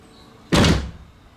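A Nissan Silvia S14 interior door handle and lock being worked, a single sharp close mechanical clunk that quickly fades, with no talk.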